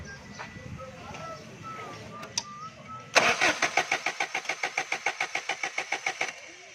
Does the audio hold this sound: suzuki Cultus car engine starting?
yes